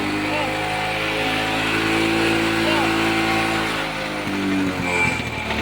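A freshly wired engine runs steadily and strongly at a constant loud drone, heard close by, with voices talking over it.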